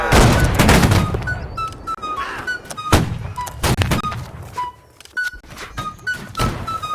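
Musket volley in the Napoleonic-era game Holdfast: Nations At War, a rapid ragged string of loud close gunshots with scattered distant pops and thuds continuing afterward.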